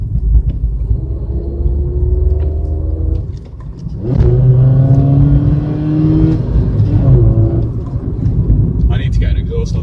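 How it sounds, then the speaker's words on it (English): A small Ford Fiesta 1.25 hatchback engine revs up repeatedly, rising and falling in pitch with a throaty exhaust rumble, close by, with a voice briefly heard. "It's just got a really cool exhaust note, just waiting to be let out"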